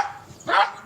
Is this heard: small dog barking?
yes